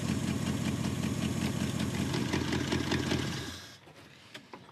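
A Jeep J engine with a carburetor in need of a rebuild idles in a steady, loud, close rumble for several seconds, then cuts off abruptly, leaving a few faint knocks and clicks.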